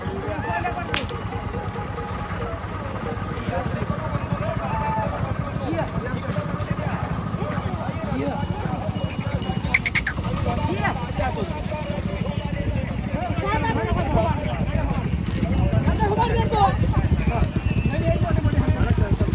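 A bull led by hand through a busy cattle market in Maharashtra, its hooves clopping on the ground amid constant crowd chatter and nearby voices.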